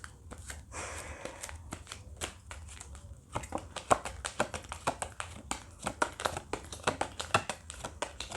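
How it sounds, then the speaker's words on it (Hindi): Tarot cards are handled for a card reading: soft rustling and shuffling, then a rapid run of close, crisp taps and flicks as the cards are laid out. "एक सेकेंड, अब हम ये कार्ड्स देख लेते हैं।"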